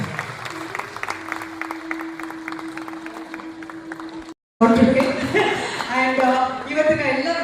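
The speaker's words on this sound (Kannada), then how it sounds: "ಎಲ್ಲ ಪ್ರಶಸ್ತಿ ಪುರಸ್ಕೃತರಿಗೆ ಜೋರಾದ ಚಪ್ಪಾಳೆಯ" An audience at an award ceremony in Bengaluru's Ravindra Kalakshetra claps for the award winners, a loud burst of crowd applause that follows a stretch of speech and carries on under voices.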